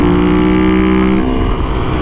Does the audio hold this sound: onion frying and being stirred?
no